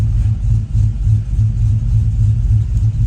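A Chevrolet Silverado with a TSP Chopacabra camshaft and full exhaust idles in gear, its loud, choppy lope pulsing in an uneven rhythm close to the microphone, with no voices.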